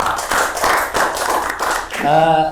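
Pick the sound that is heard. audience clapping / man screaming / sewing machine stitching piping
audience clapping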